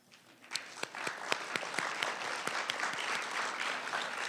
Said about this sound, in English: I'd like now to just give you a hand of applause.